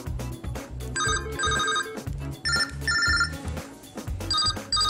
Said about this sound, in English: Your Mitel desk phone will ring, giving you an opportunity to answer the caller.